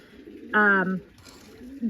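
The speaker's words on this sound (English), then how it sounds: "arycarl is doing the feeding in here because she has the ringneck doves and the Australian crested doves." Ringneck doves and Australian crested doves in an indoor aviary give a short, loud cooing call, followed by fainter coos and soft background noise.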